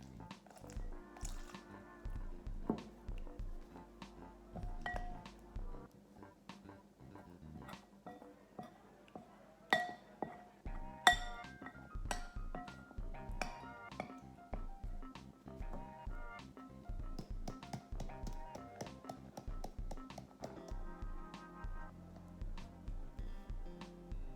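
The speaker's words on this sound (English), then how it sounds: "I'm going to start adding little bits of water until it gets to a good consistency" Small splashes of water are poured into cornstarch in a bowl, giving many irregular drips, squishes and ticks throughout as the mixture is stirred, close and fairly quiet.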